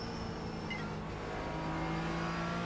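A race car engine in the iRacing sim holds a steady droning whine under braking, with a brief shift blip partway through.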